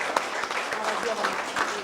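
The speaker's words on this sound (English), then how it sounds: "let's give a big round of applause to Ayush Bhattar." Brief applause from an audience at the SIP Malakpet 4th anniversary awards event, scattered clapping with a voice talking over it during the short burst.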